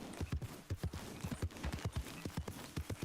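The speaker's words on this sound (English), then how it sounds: "Oh, a horsey!" A horse's hooves clip-clop at a steady walking pace in Red Dead Redemption 2, crisp, evenly spaced thuds heard close with no voices.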